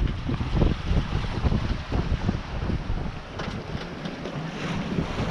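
Strong wind roaring over open water aboard a sailboat in the Strait of Bonifacio, with rushing waves and gusty microphone buffeting throughout.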